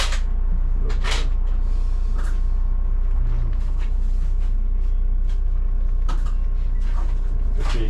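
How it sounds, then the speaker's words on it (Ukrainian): The doors of an Electron electric bus close on an evening run: several sliding and thudding door movements over a constant loud interior hum, with bursts of mechanical clatter and hiss near the start and end. "Всі дійшли, всі зачиняю всі двері."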